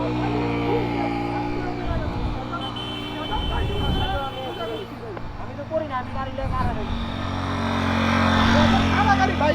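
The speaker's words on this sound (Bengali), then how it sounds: "হান্ড্রেড সিসি গাড়ি ও দুইজন নিয়ে উঠে যাইতেছে" A 100cc motorcycle carrying two riders labours up a steep hill road near Boga Lake, Ruma, Bandarban, its engine droning steadily and rising in loudness toward the end beneath ongoing speech.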